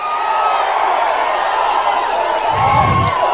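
A large crowd at a political rally keeps up a loud, sustained roar of cheering and whooping, with a brief low thump of clapping near the end.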